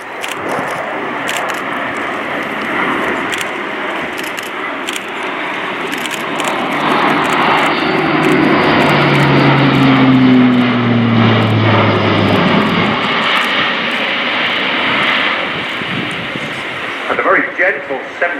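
Airbus A400M Atlas military transport aircraft performing a display at an airshow, its turboprop engines droning loudly and steadily with a rising and falling pitch as it banks past, joined by commentary over a loudspeaker.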